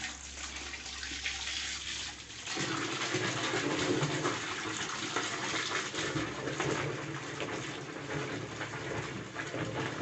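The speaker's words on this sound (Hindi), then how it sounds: "ठीक है, हम इसमें फिर पानी डालते हैं।" Water pours steadily into a surf detergent mixture in a container, a continuous close splashing rush that grows fuller after a couple of seconds and keeps running without a break; no talking.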